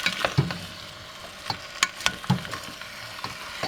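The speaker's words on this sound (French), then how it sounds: "Et on y ajoute les poivrons coupés." Cut bell peppers for Hungarian lecsó sizzling in a pan while being stirred, with irregular clacks of a spoon against the pan over a soft frying hiss, close by.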